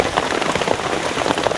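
Heavy rain falls steadily in a mountain forest, a dense, loud, continuous patter of drops on surfaces close by, with no voices.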